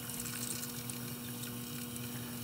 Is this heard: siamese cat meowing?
no